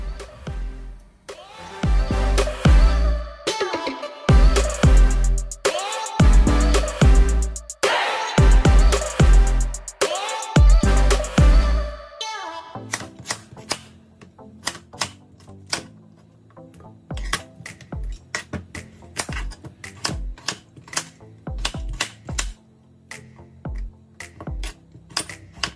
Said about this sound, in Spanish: Todo, toda la verdura, voy a picarlo nada más.